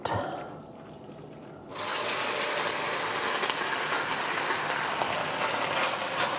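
Beef pieces dropped into a pan of hot avocado oil for a ginger onion stir fry, bursting into a loud, continuous close-up sizzle after a brief quieter start.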